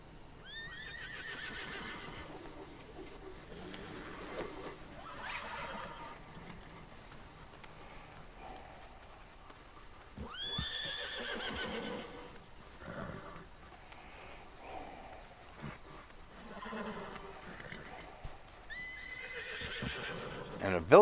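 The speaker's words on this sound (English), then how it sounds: "let's see how quickly I can get thrown from a horse" Horses in Red Dead Redemption Online whinny and neigh repeatedly in loud bursts, with clip-clopping hooves between them and a voice talking at times.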